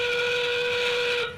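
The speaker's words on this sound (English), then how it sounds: "Endgame whistle now sounding." The endgame whistle at a FIRST Tech Challenge robotics league meet gives one loud, steady, piercing blast that holds for over a second before cutting off.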